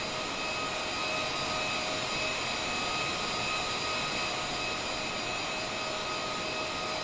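Boeing 787 Dreamliner jet engines in Microsoft Flight Simulator roar in a steady, continuous broadband whoosh with a faint high whine, unchanging and moderately loud throughout, with no voices.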